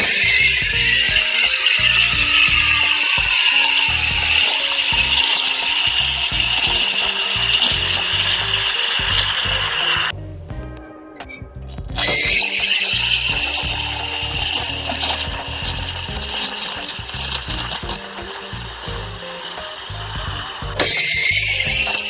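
A latte-art competitor uses an entry-level espresso machine with a multi-hole steam wand to steam milk. It gives a loud, continuous hiss and roar with rough gurgling, and it cuts out briefly twice before starting again.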